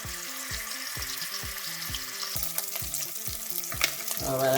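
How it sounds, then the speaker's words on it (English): Andouille sausage frying in a pan while cooking rice and pigeon peas, a steady hissing sizzle carried under a regular thumping rhythm of low knocks, close and moderately loud with no talking. "so we fried up our andouille."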